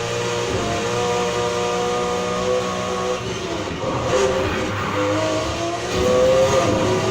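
A 1971 Nissan Fairlady 240 ZG races in Need for Speed Heat: a steady engine drone with shifting harmonic whine, occasional tire squeal and revving, loud and continuous throughout with no talking.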